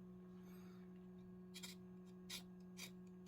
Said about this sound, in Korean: 이 부분을 이거 칼로 긁어 줍니다